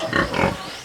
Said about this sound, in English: I wanted to go check on the fattening pigs and see how they're doing.